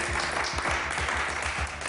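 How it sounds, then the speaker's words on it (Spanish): Brief burst of applause from a studio audience at a television show, a dense, even patter of many hands clapping close by. "No, pues otro aplauso, ¿no?"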